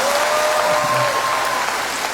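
Enthusiastic audience clapping at the Chin Cultural Festival in Singapore, a loud continuous wall of many hands with a faint tonal whine and a little background sound beneath it.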